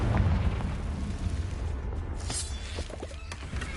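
The Confringo fire spell explodes in Hogwarts Legacy, a booming burst with a roaring, crackling rumble that fades over a few seconds.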